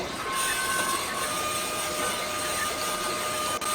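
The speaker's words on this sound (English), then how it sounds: "What we've been doing is roughing out the bores on our connecting rods. So I've got a coarse grain stone in here" A coarse grain stone hones the connecting rod bores of a 1968 Pontiac Firebird 350 engine, giving a steady, close, loud mechanical whir and grinding hiss that runs without break. No one speaks.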